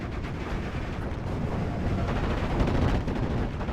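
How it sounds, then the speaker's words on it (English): Dense, continuous machine gun fire and battle noise from a WWII strategy video game, a thick unbroken roar of rapid shots with rumbling explosions underneath. "There's a lot of machine gun fire coming at it."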